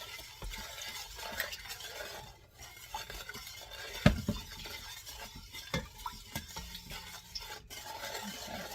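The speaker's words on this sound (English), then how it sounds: "So we are stirring this." Cranberry sauce being stirred in a medium saucepan, a soft scraping swirl of spoon against pan with occasional clinks and one sharper knock, fairly quiet throughout.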